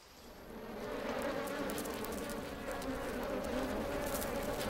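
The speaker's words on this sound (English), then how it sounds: "But these are native Japanese honeybees," A swarm of native Japanese honeybees around a hive in a hollow tree gives a steady, dense buzzing drone that swells slightly after the first second and holds near and loud to the end, with no talking.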